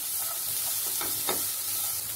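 Beans and mixed vegetables for spring rolls sizzle softly in a pan while being stirred, a steady hiss with a few light scraping strokes, close with no talk.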